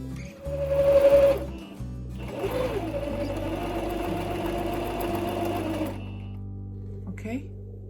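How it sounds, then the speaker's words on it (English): A sewing machine stitching a satin bonnet whirs loudly up close in two bursts, a short run then a longer steady one, before stopping, with a voice faintly present at times. "So I'm going to stitch here, and when I'm done that, I'm going to fold in the edges here and top stitch at the edge."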